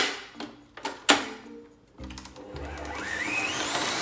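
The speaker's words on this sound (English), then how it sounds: "So we need to make sure we mix on high speed." An electric mixer beating cream cheese frosting on high speed in a home kitchen, with a few clanks and taps, then a loud, steady motor whir that rises and holds.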